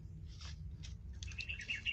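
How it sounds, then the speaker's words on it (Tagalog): Crows call faintly outdoors, a few short calls spaced out and then a quicker cluster at the end, over low background rumble. "May mga uwak po."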